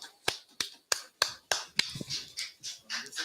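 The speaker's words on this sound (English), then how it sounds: "Just a clap coming from the other room." Handclaps from another room: six sharp, evenly spaced claps at a steady rhythm, then a few softer, scattered sounds trailing off.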